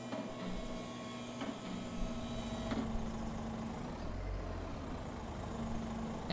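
A truck engine idles and runs in Farming Simulator 22, a steady low mechanical drone with faint tonal hum and a few clicks, fairly quiet and continuous with no talking.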